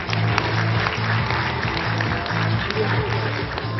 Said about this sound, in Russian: Бурные аплодисменты!